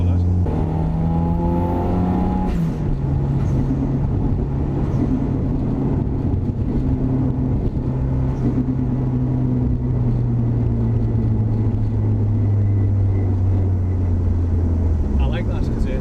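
Rally-spec Toyota Celica GT-Four with stiff shocks and poly bushes heard from inside while driving, a steady engine drone that shifts gear early and then holds, with people talking over it throughout.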